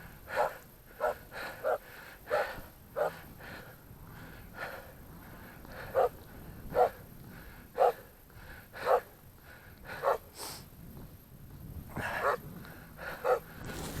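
Repeated sharp barks from a Komondor, the big corded Hungarian sheep-guarding breed, come in irregular bursts of one to three over steady outdoor background noise, fairly close and moderately loud.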